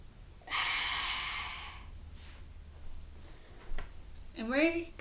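A child's volcano yoga breath: a long, audible breath out through the mouth, then quieter breathing, with a brief bit of voice near the end.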